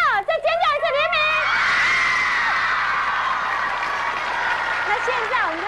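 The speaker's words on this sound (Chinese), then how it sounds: "你看，所有同学都尖叫，再尖叫一次" A crowd of students at a 1993 televised variety show screams for a pop idol, a loud sustained shriek that swells and slowly fades, following a host's speech and with speech returning at the end.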